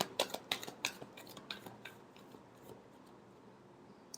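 Tarot cards being shuffled by hand, a series of soft, crisp riffling and tapping snaps close up, busier at first and then thinning to sparse light clicks, without talk.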